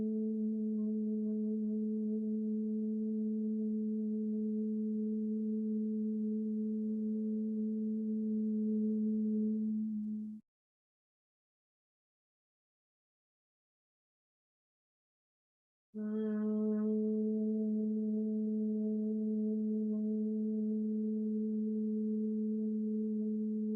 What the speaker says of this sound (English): Humming on the exhale.